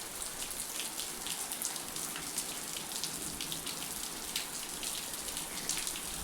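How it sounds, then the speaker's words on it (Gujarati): Monsoon rain falls steadily outdoors, a dense continuous patter of drops hitting surfaces with no voices. "કાલની હાઈડો હાઈડ ભાઈ વરસાદ પાછો આંબી ગયો છે."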